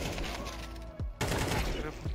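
Gunshots in Counter-Strike 2: a few sharp, loud cracks spaced across about two seconds over a steady busy game backdrop, with a faint voice in the mix.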